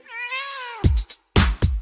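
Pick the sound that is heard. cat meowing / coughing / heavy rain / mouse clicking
cat meowing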